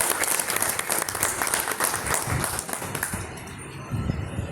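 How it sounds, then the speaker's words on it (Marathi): A seated audience at a journalists' association felicitation bursts into sustained, dense applause that fills the room at close range, then thins and tails off toward the end, with no speech over it. "आपण सगळेजण एकदा टाळ्या वाजवण्याचं"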